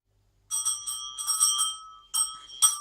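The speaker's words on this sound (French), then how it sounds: "J'ai reconnu la grosse cloche et la petite cloche." A big bell and a small bell ring together in a series of clear, bright strokes. The tones ring on between hits, with a short pause before the last couple of strikes.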